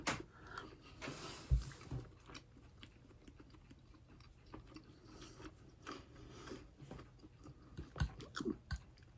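Quiet, close chewing of a mouthful of tender roast beef, soft wet crunches and bites recurring irregularly, with faint background noise and no talk.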